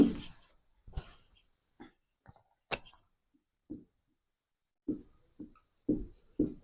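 Pen or chalk writing a word by hand in a quiet room, short separate scratchy strokes in an irregular rhythm, mixed with faint breaths or brief vocal sounds.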